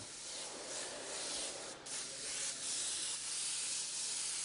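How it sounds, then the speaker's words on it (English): An airbrush sprays pearl paint onto a surface from several inches away, giving a steady, soft continuous hiss with slight swells and a brief stronger burst midway, close and without speech. "If I bring the airbrush back a distance, 6 to 8 inches from the surface, and spray a nice even layer of pearl on there"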